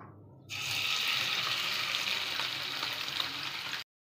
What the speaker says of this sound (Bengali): মাছটা আমি লবণ আর হলদি মাখিয়ে আমি এখন সরষের তেলে ভালো করে কড়া করে ভেজে নেব